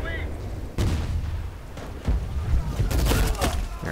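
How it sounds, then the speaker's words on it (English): Gunfire from an M16 with an M203 grenade launcher in Medal of Honor multiplayer on the Kunar Base sector control map, heard as loud, dense bursts of shots and heavy booms that crowd the whole stretch. "I was just killed by an M16, M203."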